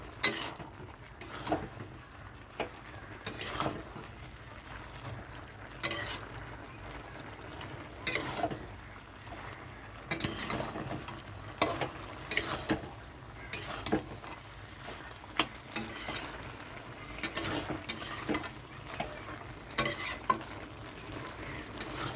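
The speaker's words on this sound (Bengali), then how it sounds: "সর্ষে পোস্ত দিয়ে এখন ভালো করে এটা কষানো হবে।" Pumpkin stems stir-fry with mustard and poppy seed paste in a pan as a spatula scrapes in steady, repeated strokes over a soft sizzle, close and alone.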